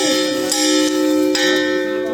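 A bell at a zoo being struck, giving a loud ringing tone with a few sharp strikes that renew the sustained metallic hum, which rings on close by throughout.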